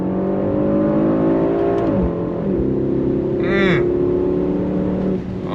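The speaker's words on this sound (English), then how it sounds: "On throttle, here we go." A 2025 Mercedes-AMG GLE63 S pulls hard on throttle, its engine note rising through the revs with shifts, loud and close, while a brief voice cuts in near the end.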